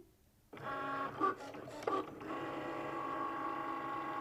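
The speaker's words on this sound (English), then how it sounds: "this is probably the best part about having a smart cutting machine is watching it in action" A Cricut Maker smart cutting machine starts up and runs steadily while cutting material, a close, continuous mechanical whir with a couple of brief clicking bursts as the carriage moves.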